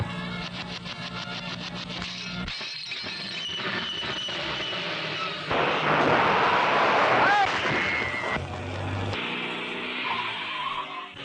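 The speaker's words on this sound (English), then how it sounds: "There's a car following us." Film car chase with tires skidding and squealing, rising to a loud burst in the middle over engine noise, with music and dialogue around it.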